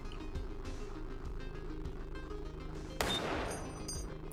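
A single revolver shot cracks out in the video game Receiver, a sharp loud report that decays quickly over quieter background noise.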